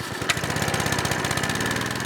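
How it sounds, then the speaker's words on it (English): A small generator runs steadily nearby at an off-grid Alaska log cabin build site, a loud, even mechanical drone with a fast regular pulsing throb throughout. "get the generator running"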